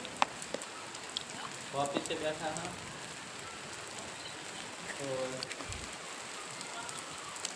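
Rain pours steadily with scattered drop ticks, while a voice speaks briefly twice in the background.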